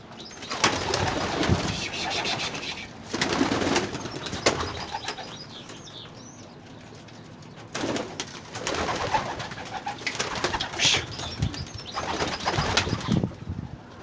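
Young homing pigeons take off during a training flight, their wings flapping in loud bursts with scattered coos and bird calls in between, close to the listener, with no talking.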